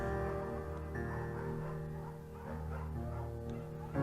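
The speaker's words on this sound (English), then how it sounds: "There's also an intimidating but gentle-eyed German shepherd." A German shepherd in the Firewatch video game gives soft, faint yips and barks over a steady musical drone, quiet and somewhat distant.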